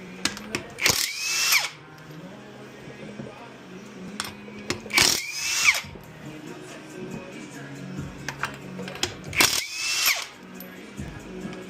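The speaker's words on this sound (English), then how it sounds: "to start out we're going to use a 21mm impact socket to get these lug nuts off" Impact wrench fitted with a 21mm socket spins lug nuts off a 2017 Toyota RAV4 wheel, with three loud rattling bursts of one to two seconds each, separated by quieter pauses.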